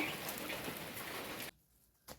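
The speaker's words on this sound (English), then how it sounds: "So it started drizzling." Light drizzle pattering steadily in a village kitchen garden, a soft dense hiss that cuts off abruptly, followed by near silence and one brief rustle.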